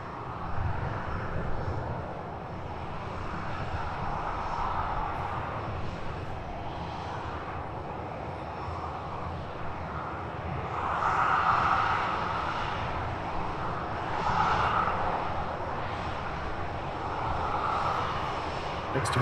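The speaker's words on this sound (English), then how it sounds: "Next arrival, EasyJet flight 3296 coming in from Zurich." An EasyJet airliner inbound from Zurich on short final at Edinburgh Airport, a steady broad jet roar that swells and fades in two gentle surges over the whole stretch, moderately distant, with no talking.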